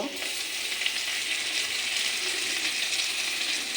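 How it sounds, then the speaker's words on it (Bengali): Onion and spices fry in a pan over a low gas flame, a steady close hiss of sizzling oil with faint stirring that carries on evenly throughout, with no voices. "পেঁয়াজটা হালকা করে একদম গ্যাসটা লো করে আমি করব আমি মশলাটা এই পেঁয়াজটাও দিয়ে দেব"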